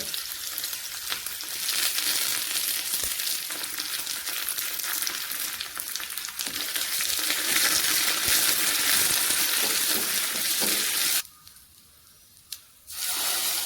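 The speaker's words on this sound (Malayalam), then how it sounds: "ഇനി ഒരു ചീനിച്ചട്ടിയിൽ കടുക് വറുക്കാം" Mustard seeds spitting and sizzling in hot oil in a pan, with shallots and curry leaves, for a Kerala-style cauliflower curry; a loud, steady crackle that drops away sharply near the end.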